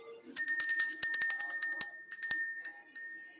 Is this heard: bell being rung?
yes